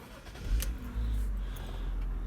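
A BMW X3 with a newly replaced water pump starts up nearby, a short cranking burst that settles into a low, steady engine idle.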